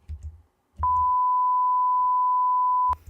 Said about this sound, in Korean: 여러분이 보기에 많이 보신 그 삐 소리